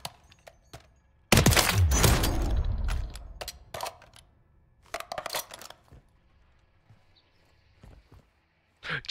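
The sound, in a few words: sniper gunfire in Warzone video game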